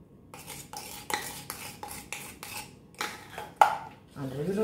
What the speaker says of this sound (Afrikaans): Gaan net gou net weer goed deurklits.